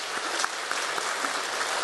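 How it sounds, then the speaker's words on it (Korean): A church congregation at a Sunday service claps to welcome first-time visitors, producing a steady, dense burst of applause throughout with no speech over it. "우리 큰 박수로 환영해 주시면 감사하겠습니다"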